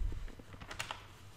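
Light typing on a computer keyboard while entering code for a Laravel 5.2 school management project: a quick run of soft, close key clicks and taps, fairly faint and alone.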